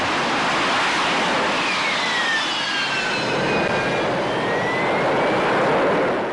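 A Harrier jet hovers with its rotating nozzles pointed down, engine exhaust blasting as a continuous, loud, broadband roar with a faint whine sweeping through it, steady and close throughout.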